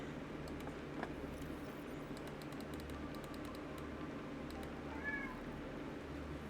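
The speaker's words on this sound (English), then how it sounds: "I'm sure you can hear my cat just flipping out in the background." A pet cat meows faintly in the background, a short agitated cry rising now and then behind steady computer keyboard typing during a Subnautica gaming session indoors.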